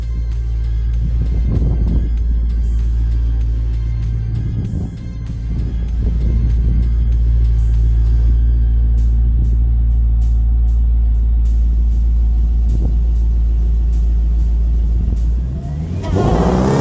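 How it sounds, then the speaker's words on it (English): A Dodge Challenger Demon 170, the 2023 model, drives close by with a loud, steady low engine rumble that swells in brief surges of revving, holding powerful and continuous throughout with no talking. "So here comes the Demon 170."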